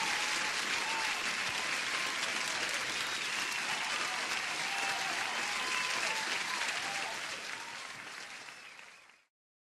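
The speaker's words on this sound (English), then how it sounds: "Where's the applause? I need the sound pad." Canned applause from a sound pad plays as a dense, steady burst of crowd clapping for about nine seconds, then fades out. It is loud and continuous, with no talk over it.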